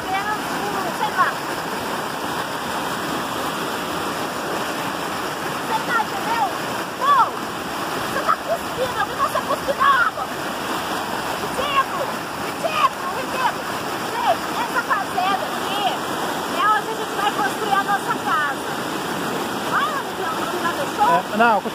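A waterfall on a home property in Brazil gives a steady, loud wash of rushing water with a constant broadband roar and small splashy flickers, while voices come and go in the background.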